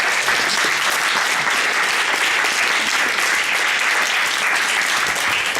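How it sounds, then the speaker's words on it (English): Applause from students at a Sciences Po COP21 climate conference simulation in Paris, a thick, continuous wash of clapping from a large room, loud and unbroken for the whole stretch. "We applaud all guys who are doing this."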